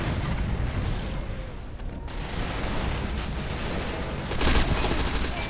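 Rapid bursts of gunfire crackle through an online first-person shooter match, dense automatic fire with a louder cluster of shots near the end, set against game ambience.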